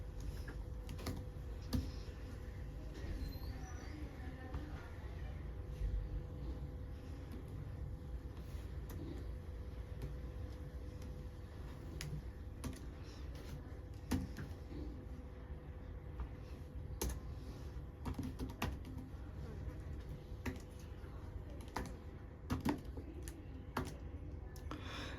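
Quiet, steady clicking of fingers typing Python code on a computer keyboard, with light irregular keystrokes throughout and no talking.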